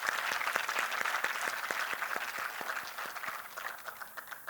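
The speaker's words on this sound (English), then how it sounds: "So a big round of applause to all of you all before I start." An audience at a guest lecture applauds with dense, steady clapping that fades gradually over a few seconds.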